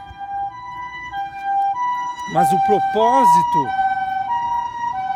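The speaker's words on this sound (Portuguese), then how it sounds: "ambulância vindo aí" An approaching ambulance siren wailing with a rising and falling tone, growing louder near the middle, while someone speaks over it.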